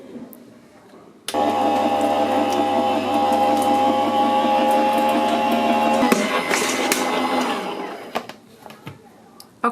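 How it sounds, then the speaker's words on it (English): A die cutting machine feeds card through its rollers with a steady, loud mechanical whir and hum that starts abruptly, holds for several seconds, then shifts and fades out, heard close with no talking. "we're going to run it through our die cutting machine"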